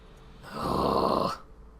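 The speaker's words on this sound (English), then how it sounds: "Lizzie, what is this train's destination?" Train rolling along in the video game Alice: Madness Returns, a broad rumbling roar that swells in, holds steady for about a second and cuts off, with no talk over it.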